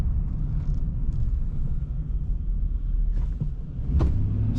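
A stock 1999 Chevrolet Silverado K1500 extended-cab pickup drives along with its engine giving a steady, close low rumble, broken only by a few faint cabin clicks and rattles.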